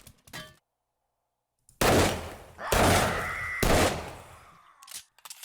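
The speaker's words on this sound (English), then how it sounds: "Oh, that was awful shooting." Gunfire in the video game 7 Days to Die: after a short opening blip and a silent gap, loud shots crack out in close bursts with ringing tails, fading before a few smaller pops at the end.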